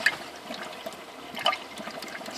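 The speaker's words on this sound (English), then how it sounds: "we're going to flush" A toilet flushes through newly plumbed hose, a soft hissing rush of water with a couple of brief gurgles and splashes, moderately near and heard alone.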